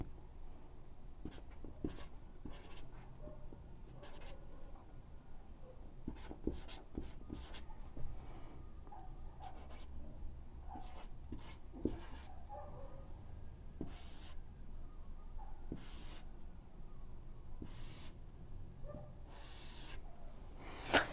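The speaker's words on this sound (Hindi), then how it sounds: "कुछ एग्जाम्पल लिख रहे हैं हम" Chalk taps and scrapes on a classroom board as maths examples are written, coming in short irregular strokes and pauses. It sounds faint and slightly distant against a low room hum.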